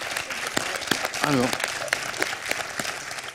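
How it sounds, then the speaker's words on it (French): A studio audience on a French TV quiz show applauds a contestant with brisk, crowded clapping, while a host's voice speaks briefly over it. "Alors là, il faut applaudir Francine"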